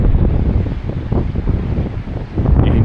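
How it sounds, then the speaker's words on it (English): Strong wind blows over a snowy hill in Reykjavik, Iceland, a loud continuous roaring rush buffeting the microphone with gusty swells and no voices. "Get a good idea of how windy it is just over this hill right now"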